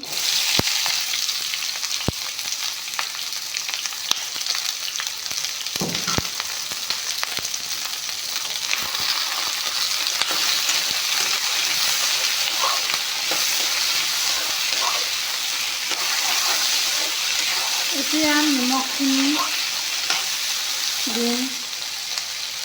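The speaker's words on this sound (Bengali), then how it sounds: "আলু পিঁয়াজখিনি ভাজি লোৱাৰ কাৰণে এয়া চাওঁ আলু পিঁয়াজখিনি দি দিছোঁ" Potatoes and onions fry in refined oil in a pan with a steady, dense sizzle that runs unbroken throughout, and a faint voice briefly surfaces near the end.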